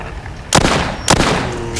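Two sharp gunshots in a zombie video game, about half a second apart, each a loud crack with a short decaying tail over faint game ambience.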